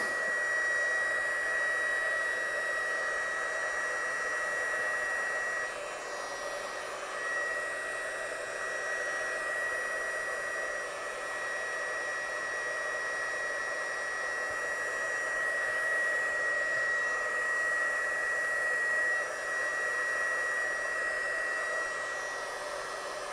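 A hair dryer drying a watercolour painting blows with a steady, unbroken whine and rush of air for over twenty seconds, close and even, with no talking.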